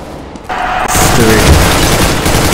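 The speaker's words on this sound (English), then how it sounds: "Flashbang." A flashbang grenade goes off in Counter-Strike: Global Offensive, a sudden loud boom followed by a sustained bright ringing hiss that fills the rest of the moment, with faint game noise underneath.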